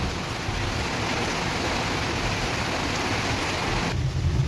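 Heavy rain pours down in a steady, dense roar that stays loud and even from start to finish, with no voices.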